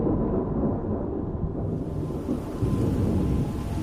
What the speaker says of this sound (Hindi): तेज बारिश ऐसे बरस रही थी जैसे पूरा शहर डुबाना चाहती हो